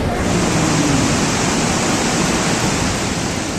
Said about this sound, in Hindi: पहाड़ों से निचले इलाकों में उफनती नदियों की तरह उतरता पानी कहर बरपाने को बेताब नजर आ रहा है